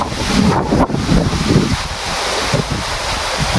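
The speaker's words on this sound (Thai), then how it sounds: "มื้อนี้ก็ถือว่าลมแรงพอสมควร" Strong wind gusts buffet the microphone outdoors, a loud, rough, rumbling roar with uneven surges throughout.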